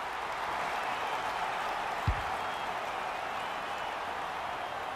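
Steady, dense roar of a stadium crowd at an AFL 26 video game match between the Lions and the Bombers, sustained at even level throughout with one brief low thump midway and no talk.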